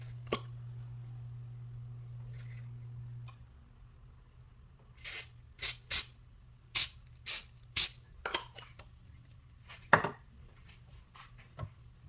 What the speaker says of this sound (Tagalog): Here's my spray, cooking spray.